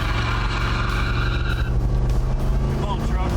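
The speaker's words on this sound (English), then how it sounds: "Nice little peel out there." A 1974 Ford F100 pickup truck engine roars loudly and steadily as it accelerates hard in a 0 to 60 run, with a brief tire squeal cutting through and a voice talking over it.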